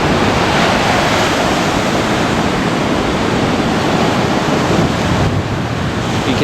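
Misty northeastern beach with ocean surf rolling in, a loud, continuous roar of breaking waves mixed with wind buffeting the microphone, no voices.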